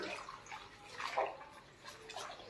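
A lump of alum swirled and stirred around in water, giving a soft, quiet sloshing and swishing with a few gentle surges, close by and with no talk.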